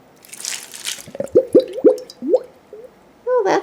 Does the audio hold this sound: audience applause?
no